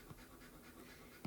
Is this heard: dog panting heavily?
yes